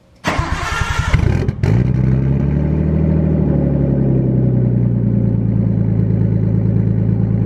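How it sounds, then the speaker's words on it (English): A Nissan Skyline's engine cranks briefly, catches and settles into a steady, loud idle as it warms up, the low throbbing running continuously after the start. "Gonna go ahead and warm up the Skyline"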